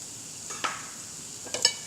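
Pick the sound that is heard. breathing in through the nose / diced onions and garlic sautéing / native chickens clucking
diced onions and garlic sautéing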